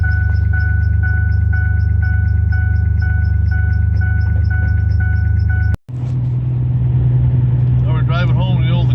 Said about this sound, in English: Now we're driving home in the old Exploder here, and the temp gauge is rising.